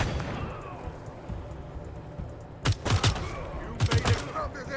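Machine turret firing in Wasteland 3 combat: two loud, chattering bursts of rapid automatic fire break out over a low background hum, each lasting about half a second, separated by a short pause.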